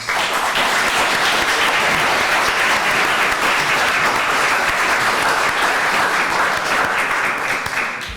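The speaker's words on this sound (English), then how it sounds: "why don't we give the panel a round of applause?" A conference audience gives a panel on California populations and electorate a loud, sustained round of applause that lasts the whole stretch without talk.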